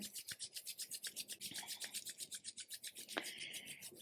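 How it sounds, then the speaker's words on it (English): Palms rubbing briskly together during a seated chair yoga session, a quick steady back-and-forth swishing of skin on skin, close and soft, with no talk. "Let's bring our palms together now, rubbing them together."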